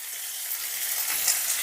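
Vegetables, slit green chillies, and fried cashews and raisins stir-fry in a pan for veg pulao, a brief steady hiss of frying that swells slightly toward the end, close and moderate with no voices.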